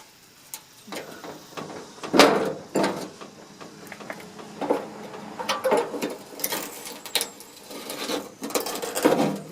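Chisel prying at a part of an inner door on a 1956 Ford Fairlane, producing scattered metallic scrapes, knocks and creaks at an irregular rhythm, close by with no talking.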